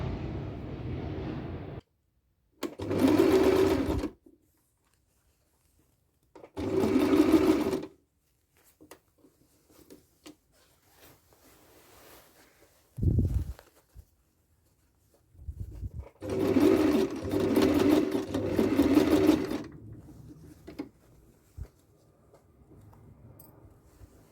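A sewing machine runs in several bursts of rapid stitching through wedding dress fabric, each a few seconds long, separated by quiet pauses.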